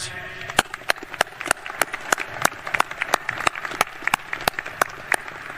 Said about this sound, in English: a round of applause to our guests.